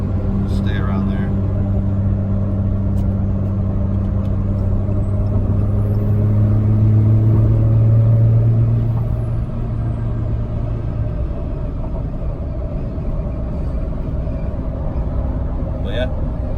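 A 2014 Ram 2500 Cummins diesel pickup with a swapped S465 turbo cruises uphill, giving a steady low engine drone with a rising turbo whistle, heard from inside the cab under someone talking.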